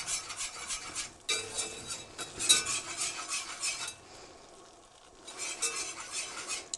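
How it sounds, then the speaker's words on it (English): A whisk scrapes and rattles rhythmically against a pan as a foamy flour roux cooks for mac and cheese, the strokes near and steady, pausing briefly before resuming, with no voices. "I'm just going to keep whisking that."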